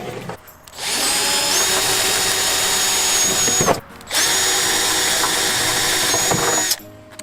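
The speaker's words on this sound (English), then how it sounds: "I'm going in here with a bigger size bit to more match the bolts there" A power drill with a larger bit enlarges pre-drilled screw holes in a cooking table, two long loud whining runs separated by a short pause, ending with the motor spinning down.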